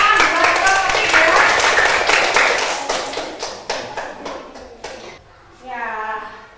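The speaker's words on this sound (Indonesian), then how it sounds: "Tepuk tangan buat kelompok 3." Students in a classroom clap for a presenting group, a burst of many sharp claps that thins out into a few scattered taps before stopping, followed by a voice speaking.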